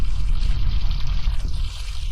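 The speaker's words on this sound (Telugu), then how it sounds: "వాటర్ వస్తుందేంటి?" Steady running water flows in the Roblox Brookhaven video game, a continuous rushing wash with a low rumble, even and unbroken throughout.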